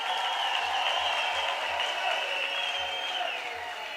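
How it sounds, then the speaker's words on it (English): A graduation ceremony audience applauds the university choir with a steady wash of clapping heard from a distance across a large hall, holding evenly and easing slightly near the end. "Can we give this choir of ours under the leadership of Prof. Matsivatlela a big round of applause"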